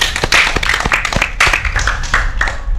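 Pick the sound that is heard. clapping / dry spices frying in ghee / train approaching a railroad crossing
clapping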